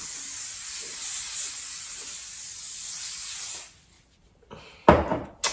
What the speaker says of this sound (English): So then I'm going to spritz this.